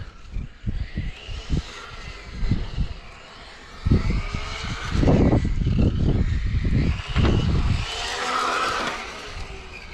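A Kyosho Fazer RC car drives about, its small electric motor whining and buzzing in uneven bursts that rise and fall as it speeds up and slows, fairly close, with no voices.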